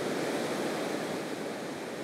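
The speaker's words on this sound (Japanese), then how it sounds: "うー、波上がりましたね。" Ocean waves wash onto a Japanese shoreline during surf fishing for sea bass, a dense, steady roar of surf heard close and alone with no speech.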